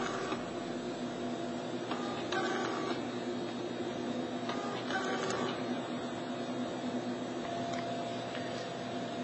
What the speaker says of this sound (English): you see the labels coming out of the printer for this particular nest.